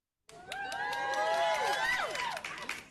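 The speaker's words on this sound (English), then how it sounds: "you won't get a boo, but you'll get a cheer this week" A crowd cheers with whoops and rising, falling shouts layered over scattered claps, moderately distant and sustained for a few seconds after a silent start.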